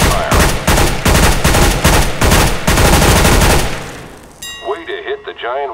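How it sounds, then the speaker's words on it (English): Rapid automatic gunfire from a weapon aimed at a giant wooden target in Counter-Strike: Global Offensive, a loud sustained burst of shots for about four seconds, then a short tonal electronic chirping. "Pick up that weapon and unload the clip into the target."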